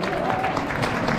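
Audience applause at the opening of a Maison Olfactiv perfume shop in Băneasa Shopping Mall, a steady dense patter of clapping that runs for the whole short moment with faint crowd murmur under it.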